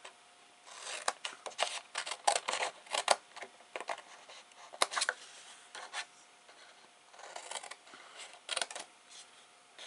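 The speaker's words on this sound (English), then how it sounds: "I'm going to use these scissors for this" Scissors snip and rub through paper or card while a gift box is trimmed, a close, quiet run of short crisp cuts and scrapes in irregular bursts, with no talking.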